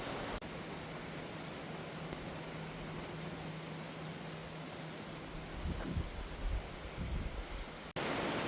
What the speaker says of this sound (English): we'll wait till the rain settles down